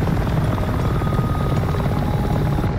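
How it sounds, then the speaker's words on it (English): Helicopter in a cartoon about dinosaurs and a T-Rex, a steady loud rotor and engine drone running continuously throughout, with no talking. "Whoa, what is helicopter doing here?"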